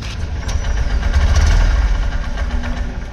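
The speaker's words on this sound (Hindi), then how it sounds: "कितना लो वॉइस के साथ बाइक स्टार्ट होता है" A 2023 Honda SP 125 motorcycle engine, low on fuel, cranks and catches, settling into a low, uneven idle with knocking pulses, close and fairly loud.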